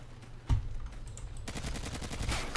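Shotgun and automatic gunfire in a Call of Duty online match: a loud blast near the half-second mark, then a dense run of rapid shots through the second half, all fairly close.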